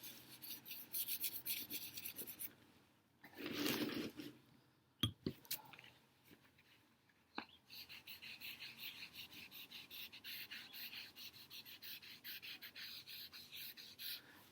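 Charcoal is rubbed on paper with a chamois while making a texture chart, giving soft, close scraping and rasping strokes that come in bursts, with a louder scrub in the middle and a steady stretch of rubbing toward the end.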